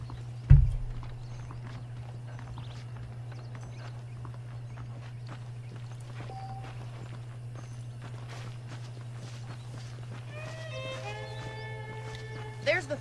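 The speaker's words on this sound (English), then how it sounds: "The horses are saddled up over here." In the Red Dead Redemption 2 video game, saddled horses walk with soft, steady hoof clip-clops over a constant low hum, while a character speaks and a few musical notes enter near the end.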